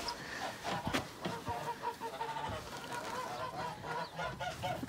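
Village geese honk repeatedly in a farmyard, with clucking fowl calls mixed in. The irregular calls sound at moderate distance against a quiet rural background.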